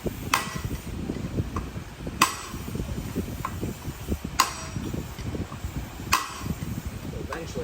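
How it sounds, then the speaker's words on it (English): A bearing on a 2007 KTM 85SX being hammered out with a big flathead, sharp metallic strikes every couple of seconds over a steady background hum, close up. "Alright, so I'm hitting the bearing out now. It's going back and forth with a big flathead on the outer edges of the bearing."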